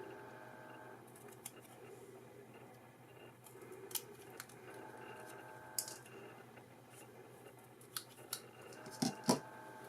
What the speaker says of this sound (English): Now I'm going to take my scissors and trim this down a little bit here